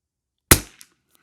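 A single sharp rifle shot from a Savage MKII bolt-action rifle at an outdoor shooting range, loud and close, with a brief echo trailing off and no talking.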